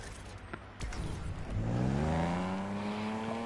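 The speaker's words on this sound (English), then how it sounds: "hear the engine roar" Car engine in the racing video game NFS Unbound revs up, a rising whine that climbs steadily in pitch and loudness after a few soft clicks, fairly close and alone.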